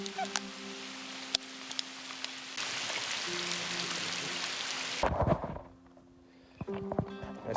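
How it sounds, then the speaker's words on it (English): Rain falls at a Rocky Mountains lake, a steady hiss that swells midway, then a burst of close rustling and knocks and a brief quieter stretch before the patter resumes. "it's pretty rainy"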